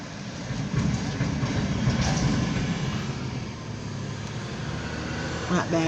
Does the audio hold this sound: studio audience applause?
no